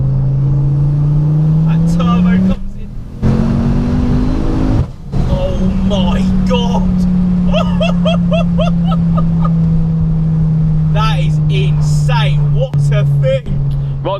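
A modified 600 bhp Ford Focus ST engine roars as it is driven hard, with a loud droning tone that rises and falls through revs and brief gear-change dips while a person talks over it.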